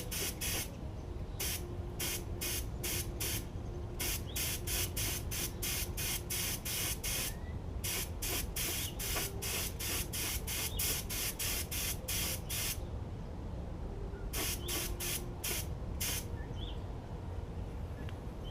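Spray gun applying paint to parts of a REO engine during a restoration, firing in rapid repeated short bursts with a few longer passes, close and loud over a constant background hiss.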